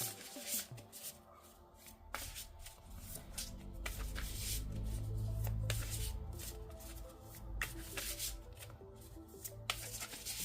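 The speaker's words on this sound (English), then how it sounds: "if you don't want to see me shuffling the cards" Tarot and oracle cards are shuffled by hand in a series of close, crisp riffling and rubbing bursts, broken by short pauses, with no talking.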